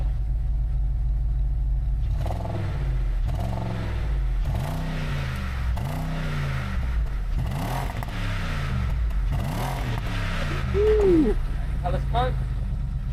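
A car engine is revved repeatedly, each blip rising and falling in a series of swelling, rumbling surges over a steady idle, with a brief higher whine near the end.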